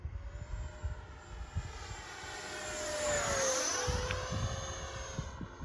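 A Freewing F-4 Phantom 90mm RC jet whines past at half throttle, its pitch rising then sliding down as it sweeps by at moderate distance, loudest mid-pass.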